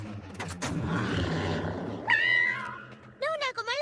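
The cartoon cat from Kid vs Kat lets out a couple of short rising and falling meows in the second half, after a stretch of busy voices and background noise.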